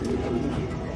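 Racing pigeons cooing at their loft during a race, a low, soft, rolling coo sounding close by and steadily for a brief moment.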